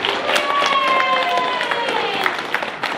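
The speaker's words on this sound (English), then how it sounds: "right, give her a clap." Church congregation clapping for the actress crowned Queen Esther in a stage play: a sustained wash of applause from a room full of people, fairly close and even, with faint voices mixed in.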